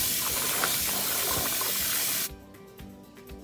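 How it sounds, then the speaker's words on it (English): Water hisses and sprays steadily into a pot while rice is washed for a fish benachin, then cuts off abruptly, leaving quieter clinks and faint handling sounds. "I'm going to wash my rice."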